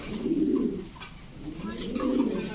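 Two low, throaty pigeon coos close by at a pigeon shop, one after another, each a soft rolling hum.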